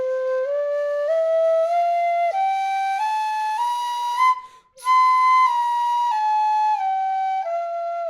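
Flute playing an alankar exercise on one continuous breath, a clear, pure tone stepping up through a scale of notes and then back down, with a short break in the middle, loud and close.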